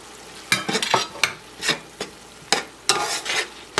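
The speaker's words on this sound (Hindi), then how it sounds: "तो साथ साथ चलाते भी जाएंगे ताकि लगने ना पाए।" Mutton being stirred in a pot with homemade garam masala and cumin powder, a series of close scraping strokes with quiet gaps between them, each sweep bright and rasping over a low background sizzle.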